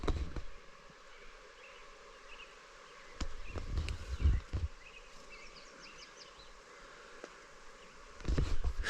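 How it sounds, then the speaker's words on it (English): A faint, steady high buzzing of small insects like mosquitoes or gnats drones on outdoors, with occasional rustling and soft thumps nearby. "That sound is mosquitoes or gnats or something."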